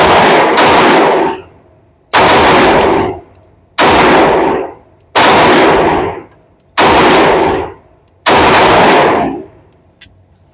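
Smith & Wesson M&P Metal Carry Comp and Sig P365 AXG pistols fired outdoors: six loud, evenly spaced shots, each with a long ringing decay.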